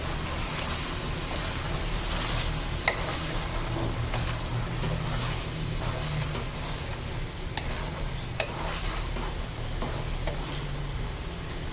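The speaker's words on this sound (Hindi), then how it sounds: "चलिए अब इसकी भुनाई कर लेते हैं।" Palak chicken curry frying and being stirred in a pan with ground garam masala, a steady close sizzle under occasional scraping clicks of the spoon, with no talk.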